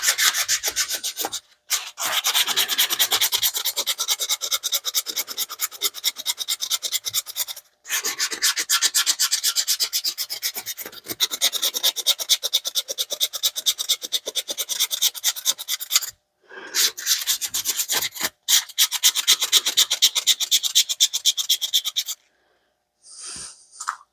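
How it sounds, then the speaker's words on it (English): Foam sanding block wet-sanding a knife handle, a steady rasping rub in long back-and-forth strokes, loud and close, broken by a few short pauses and no speech. "We're gonna go ahead and wet sand this."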